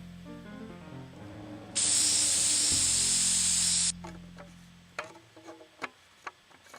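A loud, steady hiss of aerosol being sprayed into a spud gun chamber for about two seconds over a low hum, followed by a few sharp clicks and clatters.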